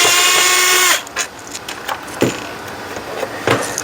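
A power driver whirs loudly for about a second removing T15 screws from a Ford lens, followed by soft clicks, taps and handling noises as the screws come out.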